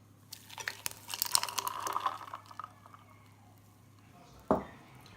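Espresso is poured onto five or six ice cubes for a tiramisu cocktail, giving a faint crackling, splashing trickle for a few seconds, then a single sharp clink near the end.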